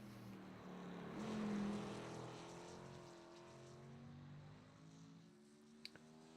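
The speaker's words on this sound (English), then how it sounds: "it was kind of hard to hear the sound of the engines of the cars going around the track" Engines of race cars lapping the Circuit of the Americas in a racing video game, a steady droning hum with slowly shifting pitch that swells around the second second, followed by a couple of short clicks near the end.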